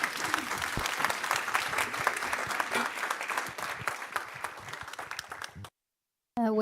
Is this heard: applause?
yes